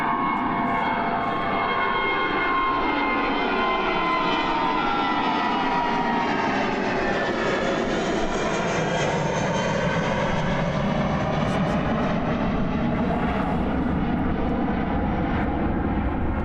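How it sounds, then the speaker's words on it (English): A fixed-wing airplane with its landing gear down comes in to land at a foggy Christchurch Airport. A loud, continuous engine roar swells and shifts in pitch as the plane passes close by. "Landing gear shot coming up. Yeah, oh, landing gear's down"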